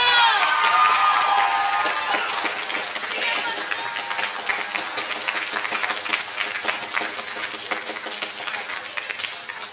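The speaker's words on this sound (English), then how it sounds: "Give them a last round of applause, these awesome people!" An audience at a school orchestra concert applauds and cheers for the graduating seniors, a dense, sustained wash of clapping and shouts that stays loud throughout and tapers slightly toward the end.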